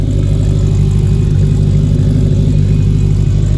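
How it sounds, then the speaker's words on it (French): The four-cylinder engine of a modified car idles close by. It gives a steady, loud, low rumble that holds even throughout. "Il a clairement un moteur de L4"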